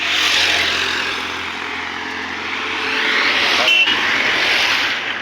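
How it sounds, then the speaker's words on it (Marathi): A vehicle passes by on a misty village road in Ambewadi near Igatpuri, Nashik, its engine swelling and fading over a few seconds, fairly close and loud. "तर गाड्या पण खूप येतात"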